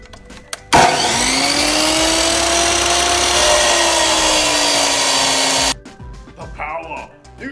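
A power saw cuts a piece for a velomobile boom: a sudden loud motor whine spins up, holds steady for about five seconds while biting into the material, then cuts off, with brief clatter and a voice before and after.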